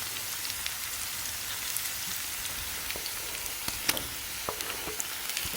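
Tomato puree added to a pan of frying onions for Jamaican salt mackerel, a soft, steady sizzle with scattered crackles and pops, heard alone.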